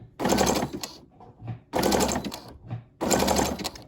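Sewing machine stitching a fabric key fob, running in three short bursts of rapid mechanical whirring with brief pauses between as the machine stops and restarts.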